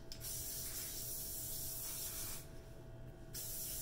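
Drybar Shine Mist hair spray is misted in two quick hissing bursts close to the mic, each lasting under a second, with quiet between them and no talking.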